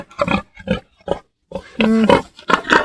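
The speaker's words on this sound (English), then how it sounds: "Who's a good pig?" A pet pig grunts and oinks close by in a run of short, uneven bursts, with one longer, drawn-out grunt near the middle.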